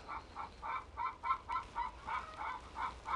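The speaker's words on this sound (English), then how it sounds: "And I know you can hear the chickens." A steady, rhythmic series of throaty calls repeats about every third of a second, a flock of chickens clucking nearby with no talk.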